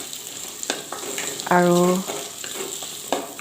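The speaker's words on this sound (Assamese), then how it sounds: "এইখিনিও আমি ভাজি ল'ম পিঁয়াজৰ লগত ভালদৰে।" Potatoes frying with onions in a pan over high flame, with a continuous sizzle and stirring scrapes, a brief tonal beep and a voice speaking once.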